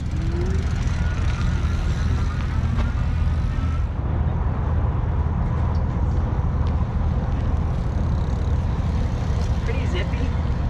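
A Surface 604 Colt electric bike pulls away on throttle, with steady wind and road rush loud and close throughout, and the tone shifting slightly a few seconds in.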